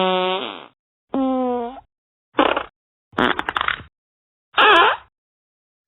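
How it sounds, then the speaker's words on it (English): A cow farting: five loud, separate blasts with short silent gaps between them, some drawn-out and buzzing, others rougher and sputtering, with no talking. "Cow farts?"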